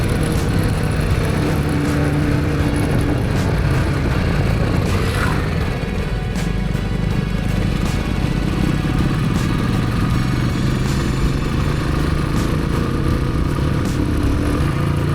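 A motorcycle climbs a steep, narrow hill road toward Don Hill Station in Dang, Gujarat, its engine droning loud and steady throughout with wind rush and occasional clatter, close and continuous.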